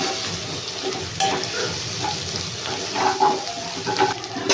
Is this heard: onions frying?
yes